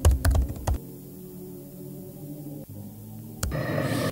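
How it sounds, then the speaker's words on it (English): Typing on a computer keyboard in the horror video game Itch, with a few quick clusters of close keystrokes at the start and a renewed burst of clicking near the end, separated by a quiet hum. "Please use the keyboard to properly communicate."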